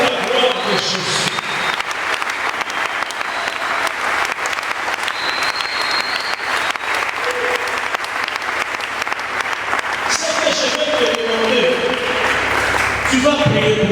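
A church congregation applauds loudly and steadily throughout, a dense wash of clapping with voices mixed in underneath.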